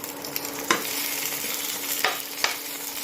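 Onions frying in a pan on a home kitchen stove, a soft continuous sizzle broken by three sharp spatula stirs against the pan, close and alone with no voices.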